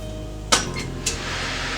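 An oven door shuts on a dish of eggplant rollatini in a home kitchen, giving one sharp metallic clunk followed half a second later by a lighter clink, close and clear over a low hum.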